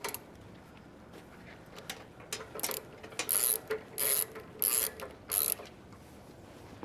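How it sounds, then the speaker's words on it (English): A torque wrench ratchets on car axle bolts in a garage: several short, loud clicking bursts in a steady rhythm, with quiet pauses between them and no talk. "I'll get this torque wrench here"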